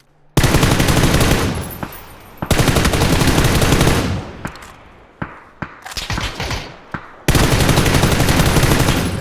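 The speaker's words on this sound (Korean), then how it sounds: "다른데 여기 능선 넘어서 쏘고 있어" Bursts of automatic gunfire in the battle royale game PUBG, with loud sustained machine-gun volleys broken by single shots and short pauses, heard alone without talk.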